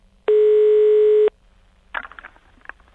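A steady electronic telephone line tone sounds for about a second while a prank call is placed, followed by faint clicks and line noise.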